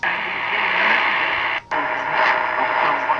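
Dense shortwave static hisses steadily on a Tecsun PL-660 radio, with faint broadcast signals buried in the noise, broken by one brief dropout partway through.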